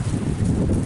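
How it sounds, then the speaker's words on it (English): Moderate wind blowing outdoors in Cyprus ahead of a storm, a steady low rumbling buffet across the microphone with no pauses and no voices. "The wind not too strong at the minute."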